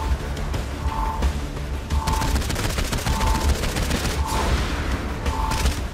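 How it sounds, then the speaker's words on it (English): Rapid gunfire in the video game Saints Row IV, with dense bursts of shots over booming game noise and repeating tonal beeps, loud and continuous with barely any pause. "Are my gunshots even working?"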